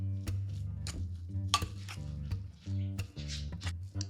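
A spoon clinks and scrapes in a bowl while a tuna, onion and garlic croquette mixture is stirred, giving a close run of sharp taps and knocks.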